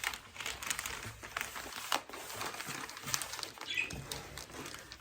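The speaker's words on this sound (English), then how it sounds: "we're right next to the budgies as well, so you're going to have to expect some noise from them." Pet budgies chirp faintly in a room, with scattered short, high twitters and light rustling against a quiet indoor background.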